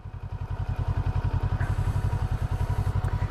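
A 2015 CFMOTO 650NK motorcycle pulls away as the clutch is let out. Its close, rhythmic low engine thump pulses evenly and gradually builds for a few seconds, with no voices.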